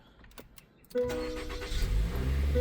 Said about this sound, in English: the battery is low, so we are going to run the car